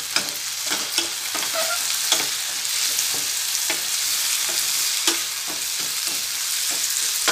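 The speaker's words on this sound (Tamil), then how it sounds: "இப்போ வெங்காயம் நல்லா ஃப்ரை ஆயிடுச்சு." Chopped onions and tomato fry in a pan for a Tamil brinjal gravy served with biryani, giving a steady close sizzle with bursts of spatter and regular scraping stirs of a spoon, with no talk.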